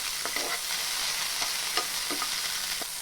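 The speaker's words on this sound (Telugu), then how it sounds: "వీటన్నిటిని బాగా కలుపుకోవాలి" Green chillies, tomato pieces and garlic sizzle steadily in hot oil while a spoon stirs them, scraping the pan in several short strokes over an even frying hiss; no one speaks.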